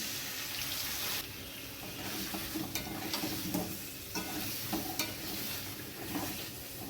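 A spatula scrapes and stirs spice paste through potatoes in a hot pan, with a continuous sizzle underneath and soft, irregular scraping strokes close by, no voices.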